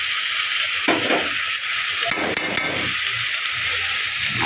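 Tomatoes cook in hot oil with a ginger, garlic and cumin paste, giving a loud close sizzle broken by several sharp stirring scrapes and bumps in the pan.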